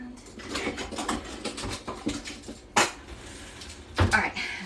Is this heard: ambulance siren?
no